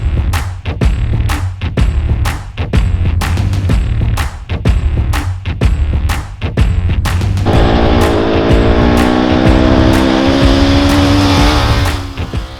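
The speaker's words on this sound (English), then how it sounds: "sets an impressive prologue time on his Polaris Turbo S" Polaris Turbo S off-road racing vehicle engine on a desert rally prologue run, loud close-up roar with rapid revving and gear changes, then a sustained high droning pull.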